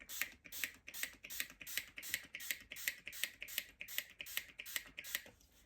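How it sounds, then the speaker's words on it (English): A spray bottle pumps out water mist in a quick, regular series of hissing squirts, about a dozen in a row, close and fairly quiet, wetting a weaving warp coloured with Derwent Inktense pencils. "Let's have a bit of a spray."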